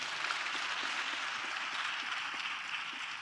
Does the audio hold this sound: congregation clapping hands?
yes